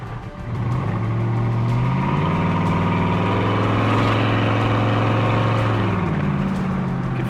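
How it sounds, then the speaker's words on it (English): Exhaust pipes on a Corvette resto-mod cackling while driving, a close, steady engine drone with rising and falling pitch as revs shift, running continuously without speech. "you can hear those pipes cackling away back there"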